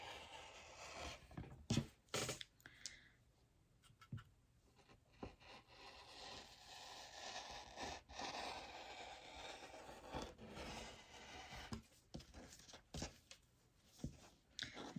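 Blade slicing through fabric while cutting out a leggings upper panel, a quiet uneven scraping and rubbing with short strokes, some sharper cuts, close by, with no talking.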